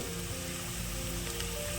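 Chopped onion, green chillies, garlic, seasoning seeds and cumin sizzle in hot oil in a pot as the base for a potato curry, a dense, even crackle heard up close with no speech.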